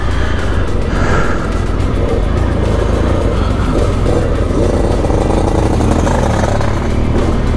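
A car travels steadily along a road on the way to a motorcycle workshop at an off-road riding festival, its engine and road noise forming a loud, continuous rumble throughout with no talk.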